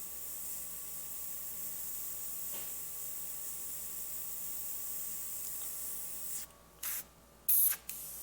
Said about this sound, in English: For most of this, I'm using just the airbrush and adding little